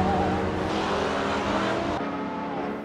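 An Alpine A110 GT4 race car engine in Assetto Corsa drones loudly and steadily, a close idling-to-low-rev hum with a slight pitch shift midway as the car pulls to the end of the pit lane.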